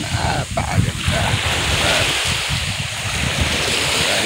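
Sea waves wash onto the white-sand beach of Caramoan Island, a continuous near surf wash with wind rumbling on the microphone, steady and fairly loud throughout.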